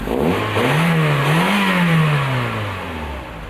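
A mid-engined Ultima sports car engine revs hard, its pitch sweeping up and falling back in a strong, continuous growl heard close and alone.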